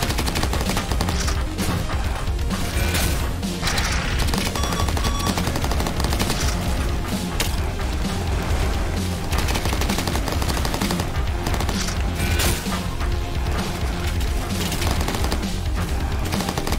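Dense, continuous gunfire from enemy bugs in a mech combat video game, loud bursts of machine-gun fire and rattling shots filling the whole stretch with barely a pause.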